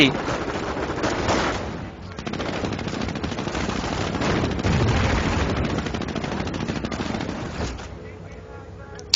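Rifle and machine-gun fire from infantry riflemen assaulting an outpost in a World War II real-time strategy game. The shooting rattles steadily for about eight seconds under a commentator's voice, then thins out near the end.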